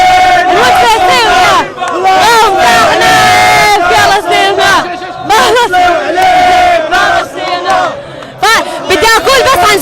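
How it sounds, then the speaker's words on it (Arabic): Crowd of Moroccan football fans chanting and roaring together, loud and continuous, with rhythmic surges and shouted voices throughout. "الجمهور المغربي لحظة واحدة ما سكتش، كل الوقت بالجمهور عامل انه هو بشجع منتخبه"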